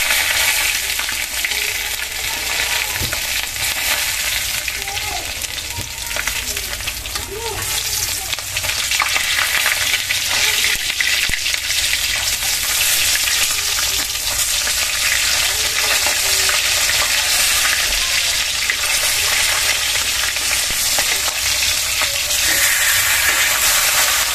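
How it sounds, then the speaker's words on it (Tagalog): Side ingredients for a sautéed bitter gourd (ampalaya) with egg dish sizzle steadily in hot oil, a dense continuous hiss of frying with occasional stirring, loud and close throughout. "tayo po nagpiprito ng ating panlahok po sa ampalaya"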